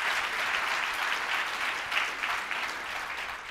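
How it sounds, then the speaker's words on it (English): An audience claps steadily for a few seconds, a full and even wash of many hands at moderate loudness with no voices over it. "Clap it up for that"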